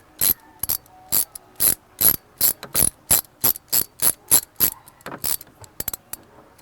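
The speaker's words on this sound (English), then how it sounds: "And then we're just going to retighten the clip with my socket." A socket ratchet retightens the hose clip on an Ooni Koda gas regulator, giving a quick run of crisp, evenly spaced clicks, close and alone, then a few faster short clicks at the end.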